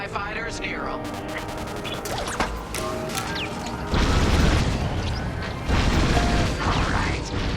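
Heavy booms and crashing blasts from a Y-Wing bombing run on enemy carriers in Star Wars Squadrons. They come in loud waves over engine roar, with radio voices talking throughout.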